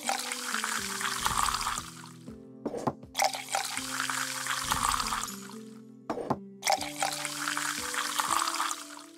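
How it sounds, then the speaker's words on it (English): Beer glugs and splashes steadily into a mug in the fantasy tavern game Tavern Manager Simulator, continuous pouring broken by brief pauses and clicks, with a looping game music bed underneath. "Yeah, we need to pour some beer."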